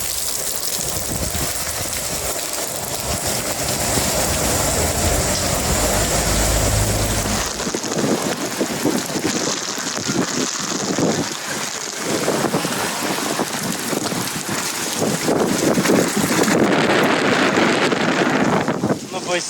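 Heavy rain and strong, gusty wind blow along the coast between Porto and Vigo. Loud gusts buffet the microphone in surges over a constant hiss of downpour, close and harsh, with the force shifting partway through.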